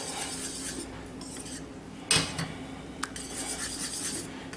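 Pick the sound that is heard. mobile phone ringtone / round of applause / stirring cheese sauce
stirring cheese sauce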